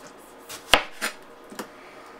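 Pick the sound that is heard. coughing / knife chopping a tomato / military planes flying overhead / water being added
knife chopping a tomato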